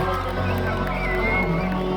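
Stadium crowd at a concert at the National Stadium in Ramat Gan applauding and cheering for the crew, a dense continuous roar of clapping and voices.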